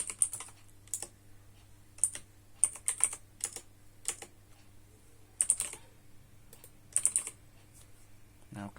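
Bursts of typing on a computer keyboard while entering a username and password during a Zorin OS 17 install, quick clusters of clicky keystrokes separated by pauses, close and clear over a low steady hum.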